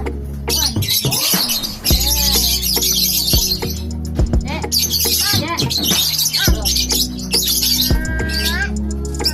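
A lovebird chirping close by, with rapid shrill tweets and squawks repeating throughout in busy bursts.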